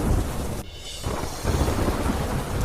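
Thunderstorm with heavy, wind-driven rain in Tapi, a loud steady roar of downpour that drops briefly before surging back, with a low rumble of thunder underneath.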